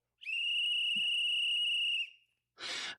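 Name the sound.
whistle blown for a timeout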